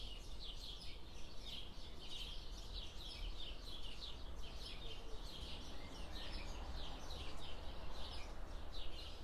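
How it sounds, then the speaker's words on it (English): Many birds chirp and sing together in a dense, continuous morning chorus in a garden, moderately distant, over a soft low background rumble. "all I can hear is the birds, and boy are there a lot of birds this year."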